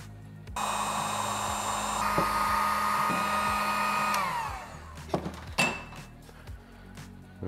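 A heat gun blows hot air to shrink heat shrink tubing on a keyer mod for an Icom 705 radio, a steady whirring fan hiss for about four seconds that winds down, followed by a few handling clunks.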